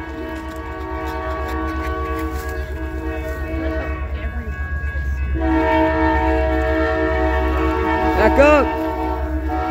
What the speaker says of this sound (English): here comes the Christmas train